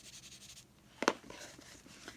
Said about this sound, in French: je peux aussi prendre un crayon gris un peu plus foncé pour faire ressortir le veinage